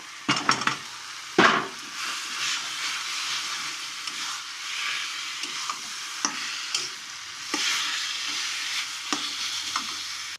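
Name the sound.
sautéing mashed potato filling with chaat masala in a pan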